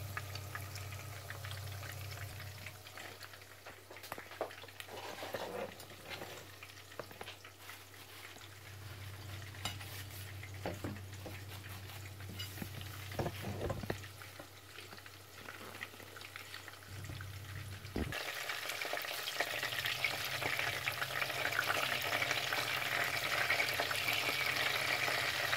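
Vietnamese spring rolls (chả giò) fry in a pan with a low, continuous sizzle and occasional faint clinks of utensils; the hiss grows louder and brighter in the final few seconds.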